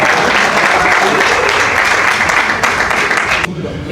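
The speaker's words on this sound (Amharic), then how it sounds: "ሶ ሞቅ ያለ ጭብጨባ አስተዋቸው ወደ ስቴጅ" Audience applause as rappers come on stage for a rap battle, a dense burst of clapping from a crowd, loud and sustained before tapering off.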